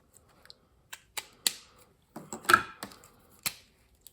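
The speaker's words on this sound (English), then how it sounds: "So let's just colour in her legs." Markers colouring in a drawing on paper, giving soft, close scratchy strokes and light taps that come in short irregular bursts with quiet gaps.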